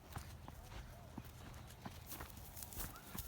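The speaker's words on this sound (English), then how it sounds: "Oh, here comes the mini horses." Miniature horses approaching on a farm, hooves clip-clopping faintly amid scattered noise and people talking, with a dog nearby.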